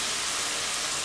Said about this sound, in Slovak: Podlejeme vývarom zo sojového mäska, ktorý sme si nevyliali